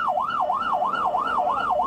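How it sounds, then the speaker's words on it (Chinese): An ambulance siren wails on a highway's inner lane, a loud, steady rising-and-falling tone sweeping in regular cycles of about half a second, close and continuous with no talk over it. "只见救护车是一路鸣笛行驶在国道内侧车道上"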